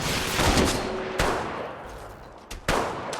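Apex Legends gunfire: a few sharp, loud shots spaced irregularly over a rumbling battle background, with no talking.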